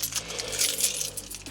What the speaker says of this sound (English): Keys in.